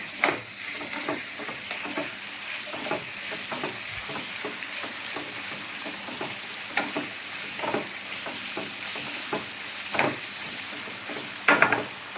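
Potato and capsicum curry seasoned with turmeric and salt is stirred in a hot pan, with a steady low sizzle under irregular spoon scrapes and clacks, a few sharper knocks near the end.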